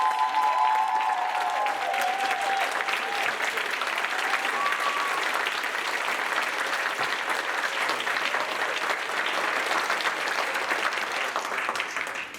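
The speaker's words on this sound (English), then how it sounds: "let's have one more round of applause." A graduation audience for an MFA class applauds steadily throughout, a dense, sustained wash of many hands clapping at even loudness with a faint voice briefly audible near the start.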